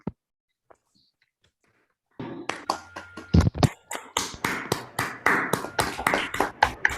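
Participants in an online mathematics conference session clapping over their microphones after near silence, a loose scatter of uneven, sharp claps from several people that quickly builds into a patchy, overlapping patter.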